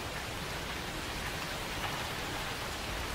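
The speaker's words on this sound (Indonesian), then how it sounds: "Adik-adik, hujan pun turun." Steady rain falls in an even, dense hiss that never lets up, used as a sound effect for a story told at a children's Sunday school service. No voices or thunder can be heard.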